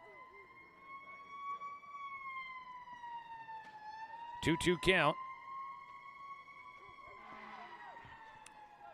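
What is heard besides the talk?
emergency vehicle sirens passing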